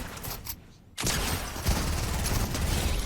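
Pump shotgun fire in Fortnite: a sharp blast cuts in after a moment of near silence, followed by a dense burst of close, loud game gunfire and impacts.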